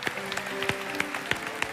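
An audience of teenagers at a church youth service in Surabaya breaks into a short burst of clapping, a quick patter of hand claps at close range.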